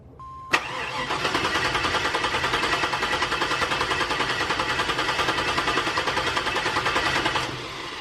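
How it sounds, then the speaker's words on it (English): An LS V8 in a Suburban being cranked over on the starter for a compression test, with a steady rapid rhythmic churning that runs about seven seconds without catching, loud and close, then cuts off. "So I'm gonna crank it over and we'll see what's going on here."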